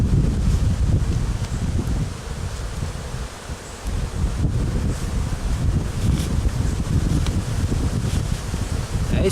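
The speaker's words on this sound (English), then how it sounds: "It's going to be windy and loud." Steady outdoor wind gusts at a beehive being relocated, a loud continuous rushing roar with rustling and a faint insect hum underneath, no clear talking.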